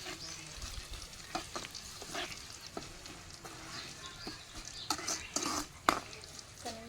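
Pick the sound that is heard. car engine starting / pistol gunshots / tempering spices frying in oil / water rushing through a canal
tempering spices frying in oil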